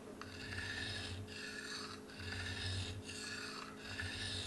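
A knife blade drawn in repeated strokes across a sharpening stone while its edge angle is held steady, giving a steady gritty rasp in about four even, close-up passes with short gaps between them.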